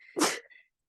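A single sharp human sneeze, close and loud, with a short breathy tail fading into silence.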